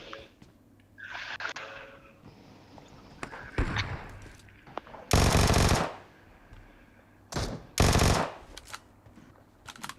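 Gunfire in the PUBG battle royale game: scattered single shots, then two loud sustained automatic bursts close by, with quieter game noise between them.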